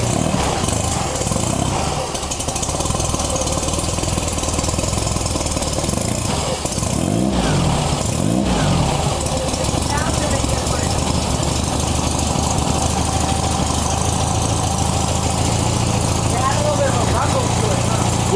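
A Volkswagen air-cooled engine fitted with a new JBugs SVDA distributor runs steadily after starting, a continuous loud rumble with rough, uneven moments from out-of-time ignition, and people talking over it.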